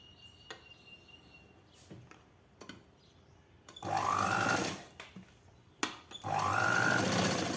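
A sewing machine stitching a 42-inch blouse, running in two loud close bursts of rapid stitching separated by quiet pauses with small clicks of handling.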